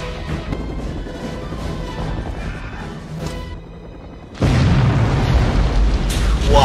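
A roof-blowing explosion in the 1988 film Die Hard erupts as a sudden loud, heavy boom partway through, following a stretch of tense, rumbling movie sound and then sustaining as a roaring blast with debris.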